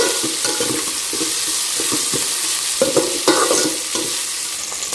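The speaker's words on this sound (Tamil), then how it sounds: "இந்த ஸ்டேஜில் இப்போ வெங்காயம் ஆட் பண்ணியிருக்கேன். இது நல்லா வதங்கட்டும்." Onions sauté in a pan for a vegetable biryani, with a continuous close sizzle broken by intermittent scraping stirs. No one speaks.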